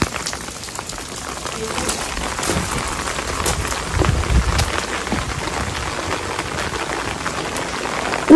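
Steady rain falls at a Shinto shrine in Saganoseki, Oita, a dense, continuous patter on surfaces close around, with louder drips at times and a voice speaking faintly underneath.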